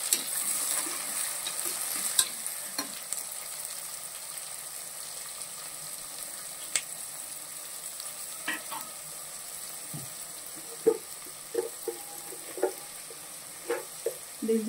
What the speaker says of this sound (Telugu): తర్వాత కట్ చేసి పెట్టుకున్న ఉల్లిపాయలు వేసుకున్నామండి